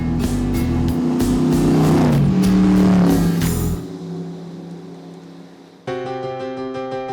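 A vintage Shelby race car engine revs loudly and close while driving, a strong throaty roar that climbs and holds for a few seconds before dropping away, followed by a quieter tonal hum.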